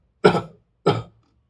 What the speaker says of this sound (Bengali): কাশি দেবেন।